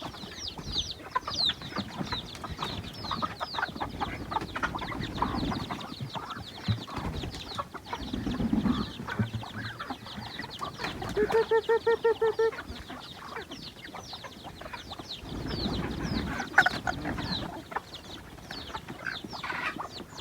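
Chickens cluck steadily around a rural Thai farmyard in the morning, with ducks also present, the soft calls repeating throughout alongside other fowl noises and no talk.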